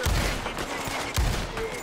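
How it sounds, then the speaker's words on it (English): Rapid gunfire in the video game Red Dead Online, several sharp low thumping shots spaced across a short burst over a background rumble, moderately loud. "That guy's shooting me."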